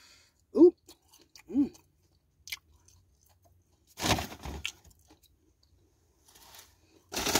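Someone eats Wendy's french fries at close range, with a few soft bursts of chewing and mouth sounds between longer quiet gaps. Brief murmurs of voice come in near the end.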